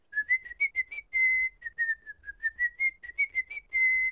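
A cartoon character whistles a short run of chirpy notes, some held longer, in two bursts with a brief pause between, close and clear, in Rolie Polie Olie.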